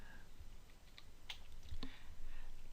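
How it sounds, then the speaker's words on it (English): Keys tapped on a computer keyboard during Photoshop CS6 work, a few sparse, faint clicks over steady low background noise. "I'm going to type the word Chrome."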